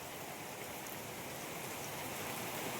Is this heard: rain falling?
yes